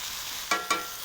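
Steaks sizzling in a pan while being basted with miso butter, a close, steady hiss with two quick splashing bursts as the hot butter is spooned over.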